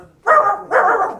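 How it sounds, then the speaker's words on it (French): A puppet dog named Gratouille gives two loud, close barks in quick succession, each a short harsh burst with a brief gap between, no talk over them. "Gratouille, tu ne pourrais pas arrêter d'aboyer un petit peu?"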